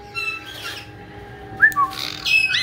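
Pet parrots squawk in a few loud, sharp bursts with some whistled notes, close by indoors against a steady low hum.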